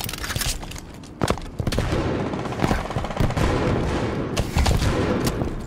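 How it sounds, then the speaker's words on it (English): Gunfire and explosive bursts from a Halo 5 match on the Breakout map, with a thrown grenade among dense, loud repeated shots and booms that run continuously and close throughout. "Throwing a grenade."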